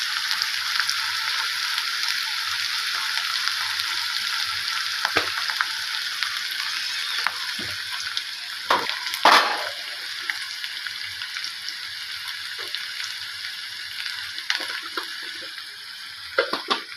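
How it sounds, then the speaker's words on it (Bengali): Peanuts and chickpeas with chopped green chili fry in a pan for jhal muri, giving a steady, bright sizzle broken by occasional scraping and stirring clatters. "ছোলাগুলো শুদ্ধ দিয়ে দিলাম। ভাজা ভাজা করছি"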